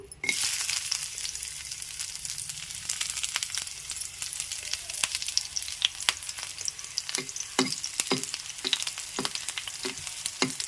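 Tempering for a tomato rasam crackles in hot oil, with garlic and fenugreek seeds dropped in. It starts as a loud, steady sizzle, and sharp pops and spatters break through it. No one speaks.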